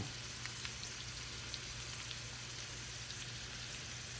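Vesuvio potatoes frying undisturbed in a pan, a steady, even sizzle and crackle that holds without a break, faint and continuous with no talking.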